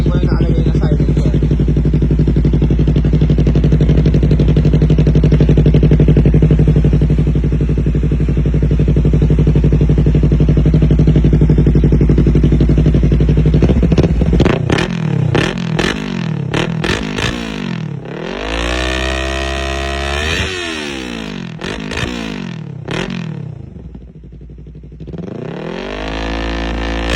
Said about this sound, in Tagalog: So ngayon, sound check natin siya ng wala nakalagay na silencer.